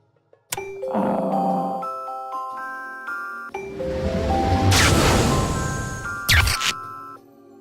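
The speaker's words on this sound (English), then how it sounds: "The bell. I can hear its calling." A bell tolls in the point-and-click adventure game Dog Mendonça & Pizzaboy, its ringing tones sustained and layered under swelling game music, with a louder clang near the end.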